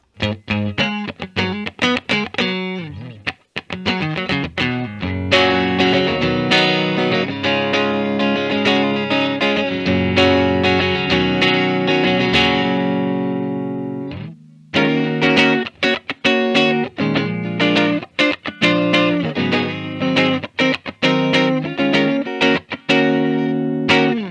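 A 1987 Gibson US-1 electric guitar played through its neck pickup, with a warm, effected tone in rhythmic strummed chords and runs, loud and close, pausing briefly midway before continuing.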